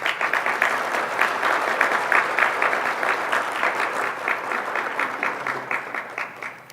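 Conference audience applauding for table sponsors, a steady wash of clapping from a large crowd that gradually thins and becomes more scattered toward the end.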